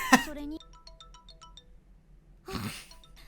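A phone ringtone in an anime plays as a bright repeating electronic melody of short tones between bursts of voice, moderately loud.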